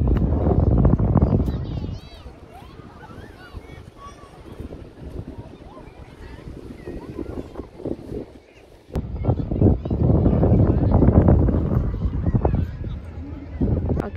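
Strong wind buffets a phone microphone outdoors, producing loud, rough rumbling gusts at the start and again through the last several seconds, with a quieter, calmer stretch between.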